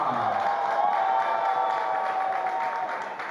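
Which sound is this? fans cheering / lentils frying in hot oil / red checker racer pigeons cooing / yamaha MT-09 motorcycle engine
fans cheering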